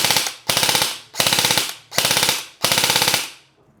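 An airsoft gun firing on full auto in five short bursts, each a rapid loud chatter of shots. The bursts are evenly spaced with brief pauses between them, close up, then silence at the end.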